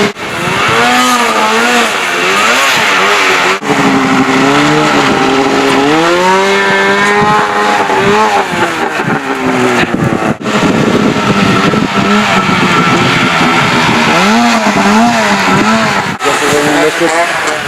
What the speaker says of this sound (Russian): поэтому мы будем делать разгон рыбы с помощью снегохода